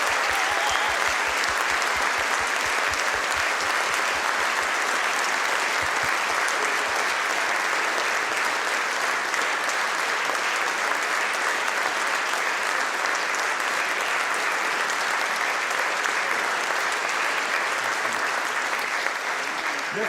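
Sustained, dense applause from a gala evening audience, cheering on a group of children; steady clapping fills the whole stretch at an even, loud level, with no talk over it.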